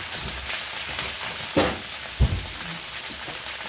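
Fresh garlic frying in a home kitchen pan gives a steady, close sizzle with a few soft clunks of the pan or utensil, and nobody talks over it.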